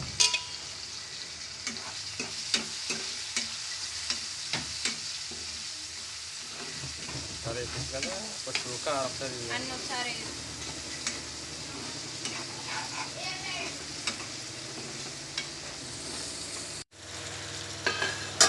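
Prawns fry with turmeric in a hot pan for an Andhra-style brinjal prawn curry, a steady close sizzle running throughout with intermittent stirring scrapes and clicks.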